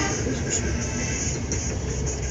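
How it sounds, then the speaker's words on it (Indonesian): A train passes close by on a street in Tegal, a steady loud rumble of rolling cars with a faint high whine above it and no voices. "Jadi sambil makan nonton kereta lewat."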